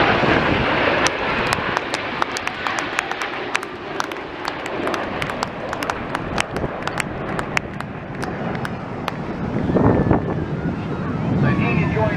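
Red Arrows display jets roar overhead at the Wales National Airshow, a broad wash of jet noise with wind buffeting the microphone and an announcer talking over it.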